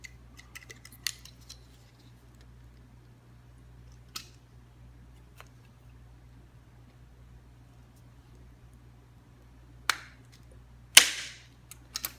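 Scissors snip the top off a plastic container while making emblem plates for a 6th-gen Camaro: a cluster of faint clicks near the start, then a few sharp cuts, the loudest near the end, over a steady low hum.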